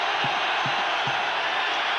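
Stadium crowd at a 1990 NFL game between the LA Raiders and Buffalo Bills: a loud, constant roar of cheering fills the air, with a few low thumps pulsing underneath.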